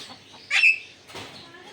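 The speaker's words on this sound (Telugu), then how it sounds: "ఏ ఇండియా కోళ్ళు లాగా ఉన్నాయి." Chickens at a zoo in Oman give a couple of short clucks, close but fairly soft, in a quiet setting.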